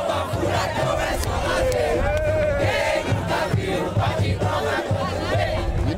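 Organized fans of Furacão do Agreste cheer and chant in unison at Mendonção stadium, a loud, dense crowd roar with rhythmic singing and shouting that holds steady throughout.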